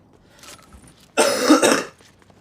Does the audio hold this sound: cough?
yes